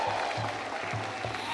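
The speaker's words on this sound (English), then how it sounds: "Let's give the All Cultural Troupe a big round of applause for that spectacular performance" An audience applauds a cultural troupe performance at a Nagaland event, a short steady wash of clapping hands heard at a moderate distance, with a faint undertone of crowd noise.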